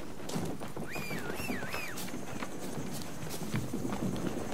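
Horse hooves clip-clopping in The Witcher 3: Blood and Wine, a steady rhythm of hoofbeats mixed with game ambience, a brief whistling tone and faint background sound, with no speech over it.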